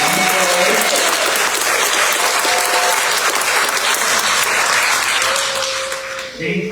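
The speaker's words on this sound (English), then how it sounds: "give another round of applause to the kiddos" An audience at an anniversary variety show applauds loudly and steadily, a dense wash of clapping that fills the room, with brief voices poking through near the end as the cheering fades.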